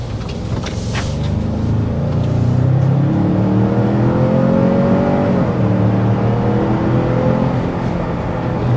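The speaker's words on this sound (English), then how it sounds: "let's go ahead and start with a hard acceleration to see what this engine is all about." A 2024 Ford Expedition Max Platinum engine under hard acceleration up a steep hill, a loud, steady rising drone with climbing revs and a brief gear-shift dip, heard from inside the cabin with no talking.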